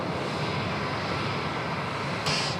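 Steady broadband roar of a jet airliner taxiing at Sydney Airport, loud and continuous with no pauses, swelling slightly near the end.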